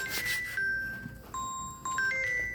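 Electronic ringtone chimes in short melodic tones, repeating several times at moderate volume with a faint background hum.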